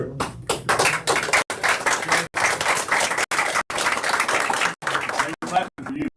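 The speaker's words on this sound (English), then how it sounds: "Clapping for you" An audience claps at an Eastland city commissioners' meeting, giving dense, crackling applause in several bursts separated by short gaps, fairly close and loud, with voices mixed in.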